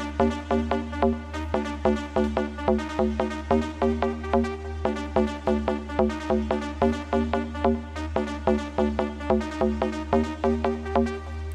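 A ravey techno loop pairs a bright mid-range synth melody with a repeating mid-range bass pattern, driving steady pulsing stabs over a low sustained tone, loud and unbroken with no voices.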